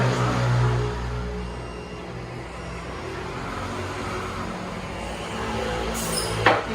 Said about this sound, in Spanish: ahora voy a bajar el coche